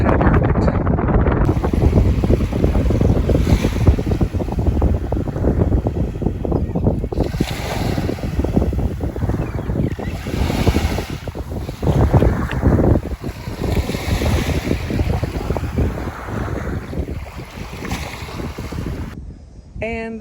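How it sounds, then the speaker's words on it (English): Strong wind roars across an overcast island beach, buffeting the microphone in heavy continuous gusts with faint surf beneath and no clear speech. "It's windy and overcast"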